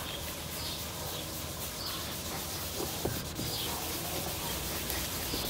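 An old sock rubbed in circles over car paint to buff out dog scratches, giving a steady soft rubbing hiss that runs through the whole stretch at moderate closeness, with a few faint chirps in the background.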